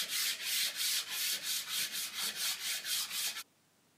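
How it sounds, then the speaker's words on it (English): Hand sanding of a reef aquarium brace to take off sharp edges, about a dozen rhythmic rasping strokes, close and steady, ending abruptly in silence. "just give it a quick sand down, get rid of all the sharp edges"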